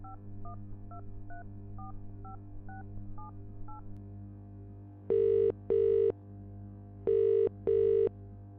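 A telephone being dialed: a run of short keypad tones in a steady rhythm, followed by four louder, longer touch-tone beeps in two pairs, heard alone over a low hum.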